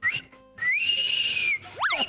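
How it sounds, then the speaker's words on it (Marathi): A person blows a signal whistle with their lips: a short chirp, then a long steady high note, then quick rising and falling swoops, clear and with no talk. "तुला ही शिट्टी आठवते?"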